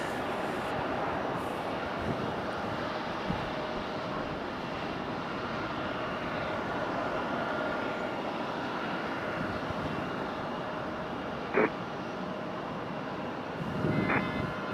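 Aircraft waiting for departure at Raleigh-Durham International Airport, their engines producing a steady, distant broadband rumble and whine, with a couple of brief knocks and a slight swell near the end.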